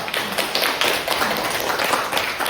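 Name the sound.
classroom clapping for group 2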